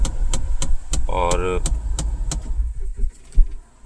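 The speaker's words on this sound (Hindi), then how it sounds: "खटखट खटखट की आवाज़ आ रही है इस कॉर्नर से" Sharp repeated knocks rattle from the dashboard corner of a Mahindra Bolero Neo, evenly spaced clicks over the low hum of the running car, with someone speaking briefly in between.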